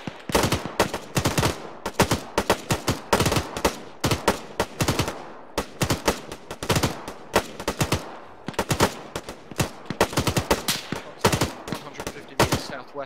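Rapid gunfire in the military video game Arma 3, with dense automatic bursts of shots rattling on continuously and loudly throughout, some bursts sharper and nearer than others.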